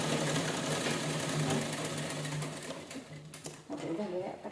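A sewing machine stitching a cloth bag runs in a fast, steady whir for about three seconds, then halts with a few clicks.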